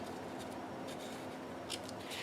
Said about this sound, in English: then use your scissors to trim it